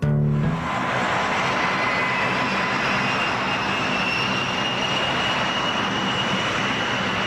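A-10 Thunderbolt II attack aircraft jet engines roar in a loud, steady, close wash of noise with a high whine layered on top, holding unbroken for several seconds.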